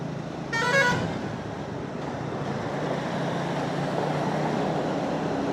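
Heavy vehicles roll past on the MIDC road at Mahape in early morning traffic, with a short loud horn toot near the start and then a steady broad roar of passing engines and tyres.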